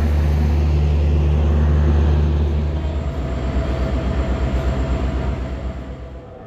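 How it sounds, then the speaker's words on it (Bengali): A Tuna Express train departs Dhaka bound for Chittagong, a heavy diesel locomotive rumble and drone dominating at first, then easing into steady rolling wheel and track noise as it moves off. "30 মিনিট লেটে আমাদের ট্রেনটি চট্টগ্রামের উদ্দেশ্যে ঢাকা ছেড়ে যায়"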